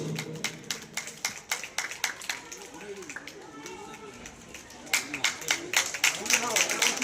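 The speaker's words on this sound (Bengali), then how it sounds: "একটা জোরে হাততালি হবে তাদের জন্য।" An audience claps for prize winners, with scattered hand claps that swell into fuller applause toward the end, under a speaking voice.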